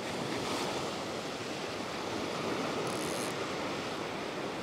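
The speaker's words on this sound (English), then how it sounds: "Here comes a little wave." Small ocean wave washing against a rocky headland, a continuous broadband wash and hiss of surf close by, with wind noise on the microphone and no talking.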